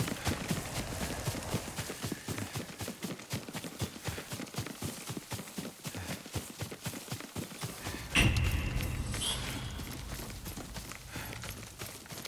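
Horse hooves in the video game Ghost of Tsushima: a steady, rhythmic clip-clop of a ridden horse, fairly close, running for about eight seconds before the hoofbeats stop and a softer, noisier ambience takes over.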